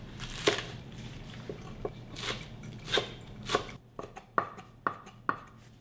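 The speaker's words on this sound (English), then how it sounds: "4 garlic cloves minced" Garlic cloves being minced with a knife on a cutting board, a series of sharp chopping taps, irregular at first then quicker and more regular near the end, close and fairly quiet with no talk.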